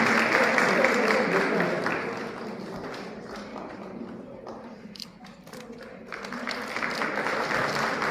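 Clapping from the audience at a painting competition prize ceremony in Kargil fills the hall, dipping briefly midway before swelling again into sustained applause.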